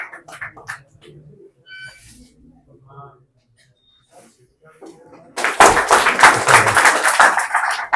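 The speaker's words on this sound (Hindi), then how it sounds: "ताली से स्वागत करो बेटा इसका" A crowd gathered to welcome a new BSF recruit bursts into loud, sustained clapping for the last few seconds, following quieter scattered talk and small noises beforehand.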